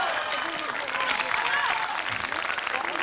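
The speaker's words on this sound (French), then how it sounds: "Dalida, on vous applaudit." A studio audience on a 1984 French TV game show applauds steadily while a host's voice carries over the clapping.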